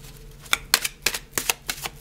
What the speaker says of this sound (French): on va aller tirer du coup 9 cartes